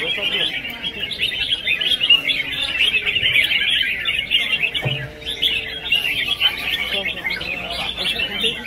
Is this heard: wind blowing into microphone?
no